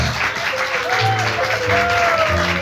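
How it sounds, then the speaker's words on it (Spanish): A Spanish-language church congregation claps together during a service. The brief, busy applause is mixed with raised voices and tonal calls throughout. "Denle un aplauso al Señor Jesucristo"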